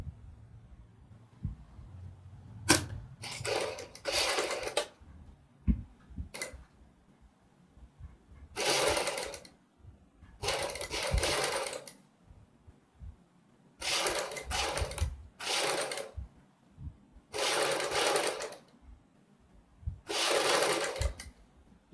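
A sewing machine stitches blue piping onto a kurti neckline in short repeated bursts of rapid mechanical whirring, separated by quiet pauses, close and clear with no talking.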